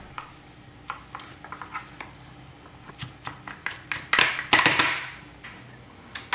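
Butter being chopped and cut into a berry crumble mixture, with a run of sharp knife taps and clicks on a dish that grow louder and denser toward the middle before trailing off.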